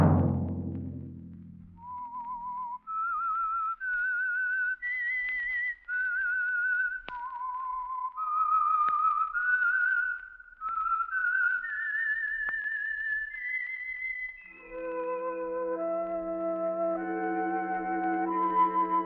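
A lone whistled melody carries the theme tune of The Whistler radio show, rising and falling through a slow sequence of clear sustained notes, then joined near the end by a soft orchestral chord.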